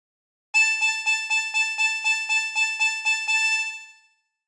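A harmonica plays a meme phrase as a quick, steady run of about a dozen repeated reedy draw notes at even volume, alone and close, ending with a short fade.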